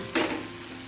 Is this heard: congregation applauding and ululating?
no